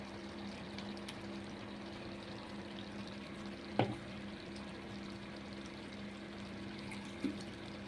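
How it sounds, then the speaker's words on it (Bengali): Chicken bhuna sizzling steadily in a pan as spice paste ground in a mixer is added, giving one soft plop over the even frying hiss. "যে মশলাটা আমি মিক্সিতে তৈরি করেছিলাম সেটা দিয়ে দেবো এর মধ্যে।"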